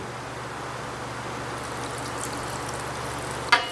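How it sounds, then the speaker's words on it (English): Water pours into spelt bread dough in a home kitchen, a soft steady trickle that runs alone for a few seconds before a brief sharp knock near the end. "I'm going to add a little more water because I want a little more bread."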